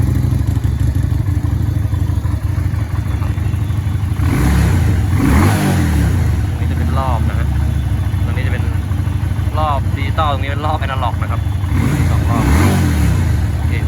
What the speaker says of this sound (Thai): เดี๋ยวลองเบิ้ลฟังเสียงเครื่องกันเลยดีกว่า